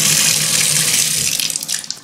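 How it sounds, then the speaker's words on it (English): Water from a tap runs steadily into a sink, close and loud, then breaks into splashy gurgles near the end. "you're gonna wanna turn on your water"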